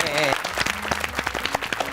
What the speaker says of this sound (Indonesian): kita kasih tepuk tangannya dong